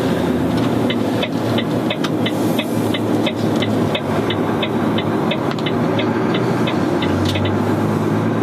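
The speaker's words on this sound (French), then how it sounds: "Là je retrouve le son de mon moteur." A road vehicle's engine running during a test drive with a retarder, a steady low drone with a regular ticking pattern over it and no talking.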